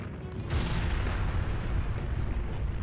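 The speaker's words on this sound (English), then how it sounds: "An explosion?" An explosion in Persona 5 Royal hits as a sudden loud boom, then rolls into a sustained broadband rumble that holds for over two seconds with no speech.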